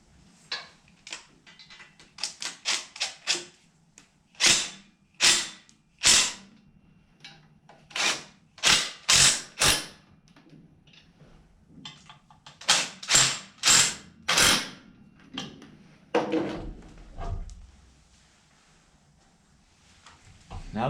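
Ratcheting wrench clicks in repeated bursts while mid-length headers go onto a 1967 Chevrolet C10, the close, crisp mechanical clicking coming in quick runs separated by short pauses.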